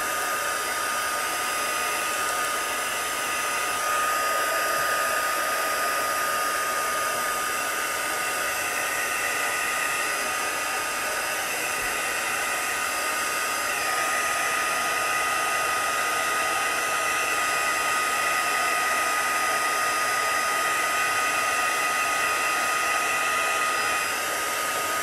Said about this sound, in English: Add some more heat, get this drying.